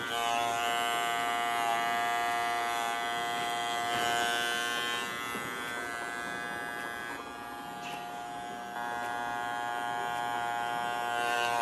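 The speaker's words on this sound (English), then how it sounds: "I'm gonna have to turn my clipper and go downwards" A hair clipper runs steadily as it cuts hair against the grain in a barbershop fade, a close, continuous electric buzz with a strong hum that dips slightly midway.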